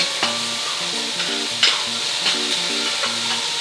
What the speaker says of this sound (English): Now I am going to add the shallots and the red pepper.